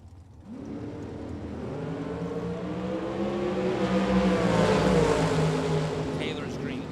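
A Miller chassis dragster launches at a bracket drag race in Las Vegas, its engine note climbing and growing louder over several seconds as it pulls down the track, heard from a distance with a commentator talking over it.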